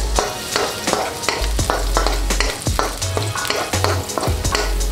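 Garlic fries in hot oil at the start of a pork belly sinigang, a loud, close, continuous sizzle broken by quick stirring scrapes and spatula knocks, with no voices.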